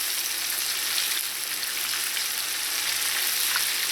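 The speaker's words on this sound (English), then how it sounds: "Now fish doesn't take very long to fry" Small pieces of shark fry in hot oil over medium-low heat for Trini bake and shark, giving a steady, close, continuous sizzle and crackle with occasional pops and no voices.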